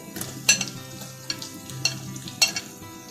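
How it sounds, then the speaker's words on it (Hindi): Tomatoes go into a pan of frying garlic and ginger for aloo palak, giving a soft, steady sizzle broken by a few sharp clinks and scrapes of stirring, close and clear. "लहसुन अदरक अच्छे से फ्राई हो चुका है। अब हम इसमें टमाटर डाल देते हैं।"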